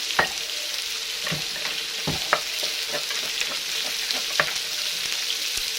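Pounded red curry paste and pork stir-fried in a pan for Thai pumpkin curry, a close, steady frying sizzle broken by repeated sharp scrapes and taps of the spatula as it is stirred, with no talking.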